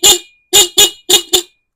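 Five short, sharp motorcycle horn beeps, sounded from a Motoposh Wavestyle starter button, in an uneven rhythm, loud and close, with silence between them and no other sound.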